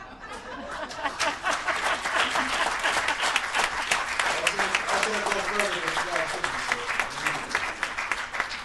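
Conference audience applauding at a religious freedom conference, steady sustained clapping from a crowd with some scattered chuckles, fairly loud and continuous throughout.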